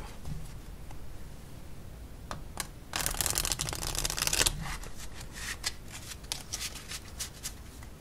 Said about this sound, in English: Victory shuffle time, number 2.